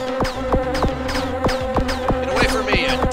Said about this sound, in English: Get away from me, you damn dirty bee.